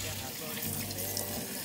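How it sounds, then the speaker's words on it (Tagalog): Tap water runs steadily into a sink while vegetables are washed for Filipino lumpiang gulay, a close, soft continuous splashing with no talking. "Hugasan ko lang yung mga gulay"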